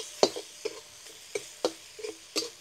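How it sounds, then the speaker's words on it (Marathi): Spices such as turmeric and red chili powder are stirred in a hot pan with oil. A spoon scrapes and taps the pan in irregular strokes over a soft, faint background of frying. "मसाले टाकल्यावर 2 मिनटं परतून घ्यायचे."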